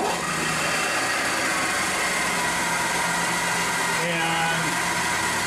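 A machine tool spindle runs steadily at about 1000 RPM, fitted with a carbide indexable vertical shear tool, giving a continuous mid-pitched mechanical hum and whir with faint tonal lines, constant in level throughout.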